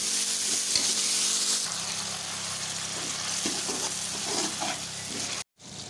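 Thickly sliced onion rings, three large ones, sizzle and crackle in hot oil in a pan, loud and steady with stirring scrapes, ending in a brief cutoff.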